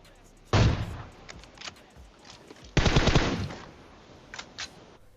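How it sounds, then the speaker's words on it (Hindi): M4 rifle gunfire in a video game, two loud bursts of rapid shots a couple of seconds apart with fainter scattered shots around them, and no voices. "ये M4 वाला न जाने कहां से गोली चला रहा है"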